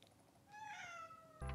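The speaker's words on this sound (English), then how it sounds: "Say hello to my cat." A pet cat gives a clear, close meow that rises and falls over roughly a second in a quiet indoor room, followed by a brief louder sound at the end.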